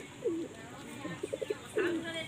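Pigeons coo at close range: two drawn-out coos with a quick run of short pulsing notes between them, over low background noise.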